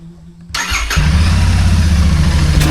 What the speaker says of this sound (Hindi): कोल्ड स्टार्ट दे देते हैं बाइक को